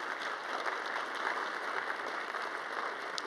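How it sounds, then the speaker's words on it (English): Audience applause at a university fall assembly, a steady dense wash of clapping from a large crowd, even in loudness throughout with no voices over it. "Come on, you got to clap for that."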